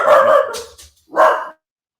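Dog barks from one of four household dogs, two close, loud bursts separated by a short pause.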